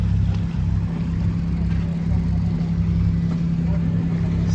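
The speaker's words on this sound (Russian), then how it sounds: "Все, погнали туристы на катерах, волну нам тут поднимают." Tourist motorboats speed past a yacht near Kotor and raise waves, making a continuous low engine rumble with a rushing wash. The sound is fairly close and steady, with faint voices in the background.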